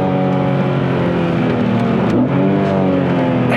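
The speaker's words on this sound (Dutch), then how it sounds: "even het motorgeluid" A BMW E46 M3 CSL straight-six revving loudly and close, a sustained harmonic engine roar that rises slightly in pitch, steady throughout with no talk.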